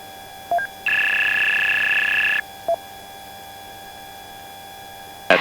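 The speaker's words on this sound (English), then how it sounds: "warning that you hear quite a bit on the videos is anytime that I'm entering or about to enter an airspace" Avionics alert in a Sting S3 light aircraft cockpit warning of airspace entry: two short beeps, then a steady two-tone electronic tone lasting about a second and a half, another brief beep, over a constant low cabin hum.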